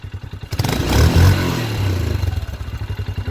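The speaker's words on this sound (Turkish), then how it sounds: "Ha egzoz sesini göstereyim size." A Kuba Viptrack 250 motorcycle engine idles with a pulsing exhaust, revs up briefly to a louder roar, then settles back into a rhythmic idle.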